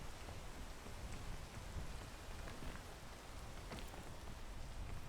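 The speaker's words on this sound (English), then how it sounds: "Oh, bro, it's raining." Steady video-game rain hisses in the background, a faint, continuous wash of falling drops with no voices.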